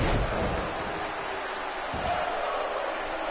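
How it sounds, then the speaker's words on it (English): An arena crowd chanting in a wrestling video game, a broad steady roar of many voices holding at moderate loudness across the whole stretch, with a thud near the start. "Here the crowd now chanting"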